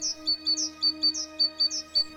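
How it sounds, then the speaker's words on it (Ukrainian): Titmouse song played as a sound effect in a children's story: a run of bright, evenly spaced high chirps repeating in a steady rhythm over a faint tonal background. "Синичка пурхнула на високу берізку, погайдалася на тонких гілочках і знов заспівала."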